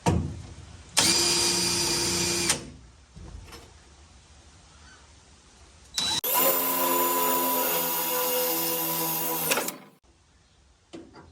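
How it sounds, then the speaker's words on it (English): A small drill whines loudly in two sustained bursts, drilling out metal on a 1969 Dodge Coronet torsion bar crossmember, with quieter pauses between them. "my plan is to drill these out with this little drill"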